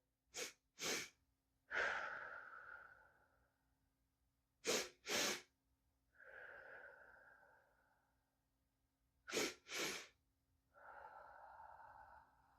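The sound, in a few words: physiological sigh: two short nasal inhales, long mouth exhale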